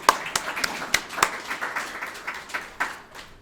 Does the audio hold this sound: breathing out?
no